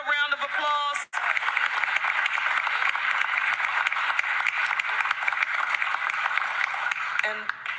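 A crowd at a city mayor's address bursts into sustained applause for the chief of staff, loud, dense clapping lasting several seconds, with a voice speaking briefly before it starts and again as it fades.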